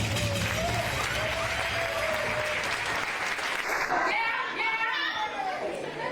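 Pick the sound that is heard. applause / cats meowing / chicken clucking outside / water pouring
applause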